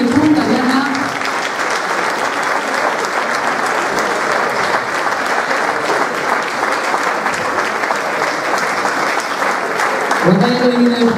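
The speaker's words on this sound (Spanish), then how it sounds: "vamos a dar un fuerte aplauso a la rondalla" A Christmas gala audience in Puntallana gives a rondalla a long, loud round of applause, dense continuous clapping from a large crowd with brief voices at the start and end.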